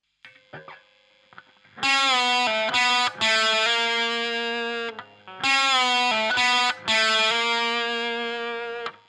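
A short electric guitar lick from a solo with a slightly overdriven tone, quick hammer-on and pull-off notes in two similar phrases, played alone and clearly.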